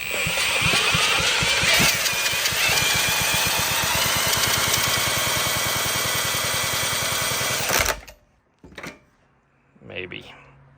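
Vintage Briggs and Stratton small engine sputters, catches and runs at a fast, rattling chug for several seconds, loud and close, then cuts out abruptly, leaving a few quiet knocks and a short voice.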